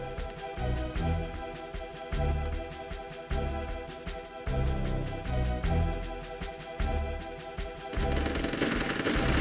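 Rapid machine gun bursts and bazooka blasts in the Army Men Sarge's Heroes video game, loud and dense, layered over a steady backing score for the whole stretch.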